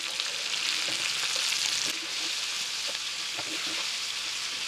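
Mutton chops frying and being stirred in a pan over a medium flame, a steady close sizzle broken by occasional scraping and stirring clatters, with no talking.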